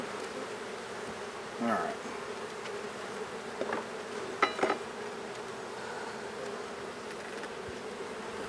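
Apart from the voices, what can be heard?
honeybees buzzing during beehive inspection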